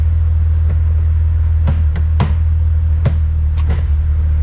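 Jeep TJ Wrangler engine droning steadily and loud after shifting into 4 low, with a constant low rumble and several sharp clunks from the drivetrain scattered through the run.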